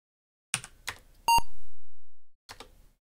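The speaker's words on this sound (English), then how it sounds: "Why does it have to beep for that?" The Dark Crystal video game on an Apple II sounds a single sustained electronic beep lasting about a second, set between several sharp key clicks before and after it.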